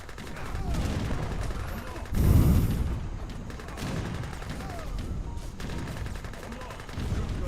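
Rapid gunfire from a Gatling gun in the Age of Empires 3 battle, a dense rattling fusillade mixed with other weapon and mechanical battle noise, with one heavier burst midway.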